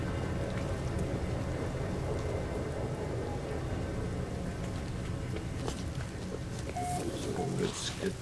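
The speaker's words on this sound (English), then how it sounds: "Incoming storm. Toxic rainstorm." A toxic rainstorm rolls in during a video game, a dense, steady rain hiss with low thunder-like rumble filling the whole stretch at an even, loud level.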